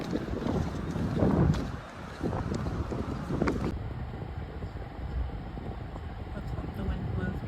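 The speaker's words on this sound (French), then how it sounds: "The wind blows again for you." Wind blows in strong gusts against the microphone outdoors, rumbling and buffeting throughout, louder in the first half and steadier after, with no speech.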